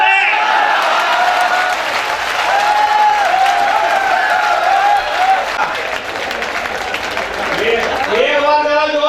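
Loud, sustained applause from a kavi sammelan audience for Hindi comic poet Dipak Parikh, a dense wash of clapping with cheering and crowd voices mixed in, swelling and holding steady throughout.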